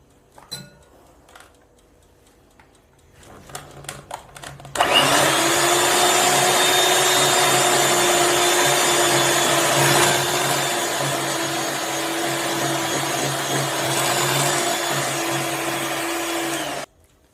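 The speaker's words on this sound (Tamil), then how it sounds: "இப்போ சுகர் இதில் சேர்த்துட்டு மறுபடியும் blend பண்ணிடலாம்." An electric blender mixing butter and powdered sugar for a honey cake, starting after a few clinks and handling sounds and then running as a loud, steady close whirr for about twelve seconds before stopping.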